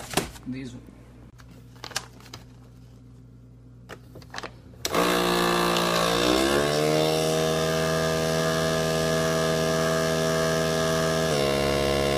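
A few handling clicks and taps, then a vacuum food sealer starts with a loud steady motor hum and whine that runs continuously to the end.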